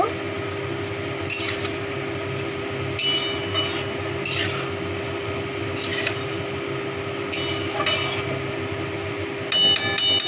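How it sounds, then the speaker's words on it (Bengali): Soaked Gobindobhog rice being stirred and sautéed with potatoes in hot oil in a pan: a steady low sizzle with repeated scraping and clinking strokes of a utensil against the pan, close and clear with no talking. "এবার গোবিন্দভোগ চালটাকেও আমরা আলুর সাথে একটু সাঁতলে নেব"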